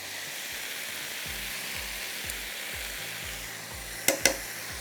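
Boneless chicken pieces and small potato chunks frying in spices, a steady close sizzle with rhythmic low scraping stirs and two sharp metallic knocks near the end.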